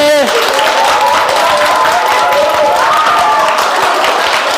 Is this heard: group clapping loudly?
yes